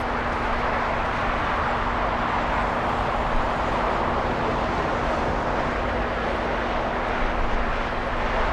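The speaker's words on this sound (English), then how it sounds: "that's American 2264 flying to Dallas. That's an A321." An American Airlines Airbus A321 on flight 2264 to Dallas rumbles at LAX airport, a broad, steady engine roar carrying a faint hum, distant and unchanging throughout.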